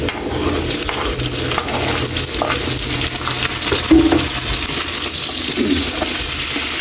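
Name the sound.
sautéing onion and tomato in a pan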